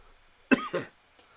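A single short, throaty cough in two quick bursts, close and fairly loud, followed by quiet.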